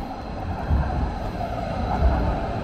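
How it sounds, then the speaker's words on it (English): A yellow tram in Heilbronn, Germany, rumbles past with a steady low mechanical roar, fairly close and loud, swelling slightly as it goes by. "So that's one of the tram."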